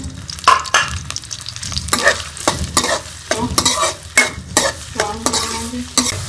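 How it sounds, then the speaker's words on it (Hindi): Onions fry in a pan for an aloo arbi curry, with loud crackling sizzle and repeated scraping strokes of a spoon stirring in an irregular rhythm, close up and without talk. "इसके अंदर मैं ये प्याज डाल दूँगी, इसको हम ब्राउन कर लेंगे।"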